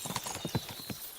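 Horse hooves clip-clop at a steady riding pace in Kingdom Come: Deliverance 2, a quick rhythmic series of close thuds with a louder hit at the end.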